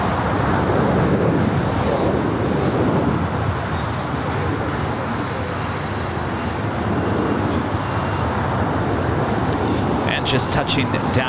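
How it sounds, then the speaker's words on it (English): A Southwest Airlines Boeing 737-800 lands at LAX, its engines making a broad, steady jet roar that holds loud throughout, with faint chirps toward the end. "Southwest Airlines flight 1816, coming in from San Antonio, Texas. It's a 737-800."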